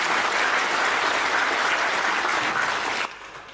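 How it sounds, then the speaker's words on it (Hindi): An audience claps at a Hindi comedy poetry event, a dense steady burst of hand claps that cuts off abruptly near the end. "एक बार पूरा सदन मुझे ताली बजा के आशीर्वाद दे।"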